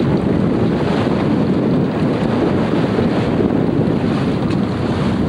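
A B-40 sailboat beats hard on the wind in open ocean near the Gulf Stream during the 1997 Marion Bermuda Race, with loud, steady wind roar buffeting the microphone over rushing water and spray.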